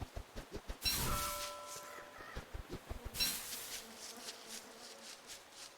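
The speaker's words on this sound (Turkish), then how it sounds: "sineklerin sesi geliyor" Flies buzz in short droning bursts in the video game Don't Starve Together, loud up close and fading in and out, with scattered small thumps in between.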